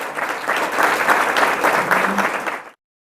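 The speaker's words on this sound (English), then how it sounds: "Let's give the Congressman a big round of applause." An audience applauds loudly and steadily for a few seconds for a congressman after a talk on teen vaping, then the clapping cuts off abruptly.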